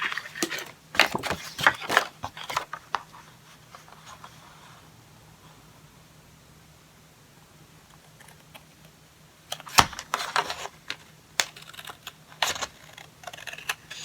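Scissors cut a paper Christmas tree template in bursts of crisp, close snipping and crackling paper, clustered at the start and again near the end with a quiet pause between.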